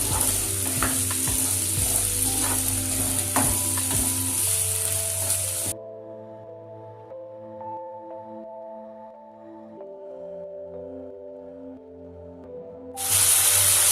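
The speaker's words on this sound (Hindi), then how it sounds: "अब इसी में हम कटे हुए आलू डाल देते हैं। थोड़ी देर तक इसको भून लेते हैं।" Chopped potatoes frying in a pan: a loud steady sizzle with stirring knocks over a low hum, dropping away to quieter tones midway before the sizzle returns at the end.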